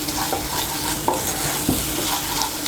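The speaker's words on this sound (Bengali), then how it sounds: "কাজু বাদাম বাটা আর পোস্ত বাটাটা ভালো করে মিশিয়ে নেব মশলার সঙ্গে।" Cashew and poppy seed paste fries with spices in a pan, stirred steadily, giving a continuous close sizzle broken by a few soft scraping knocks of the spoon.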